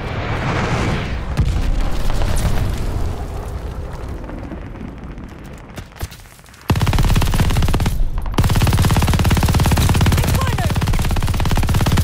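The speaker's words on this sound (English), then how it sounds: "Got an enemy glide bomb on the way." An enemy glide bomb explodes amid combat in Call of Duty: Vanguard, loud booming blasts and dense gunfire filling the scene, with a brief lull before a sudden heavy eruption of noise that continues to the end.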